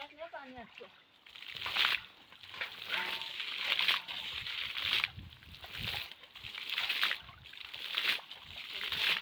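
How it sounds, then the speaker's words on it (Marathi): Water rushes steadily into a riverside pool being bailed out for fishing, a continuous close wash of sound with someone talking over it throughout. "तो बघा तिथून पाणी जाम येतोय"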